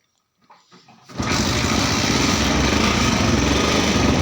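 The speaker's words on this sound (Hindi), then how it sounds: "ये मेरी बाइक एक किक में स्टार्ट हो गई है" A Hero HF Deluxe BS6 fuel-injected motorcycle, with a weak battery, is kick-started: a few soft mechanical knocks, then the single-cylinder engine catches and settles into a loud, steady idle close by.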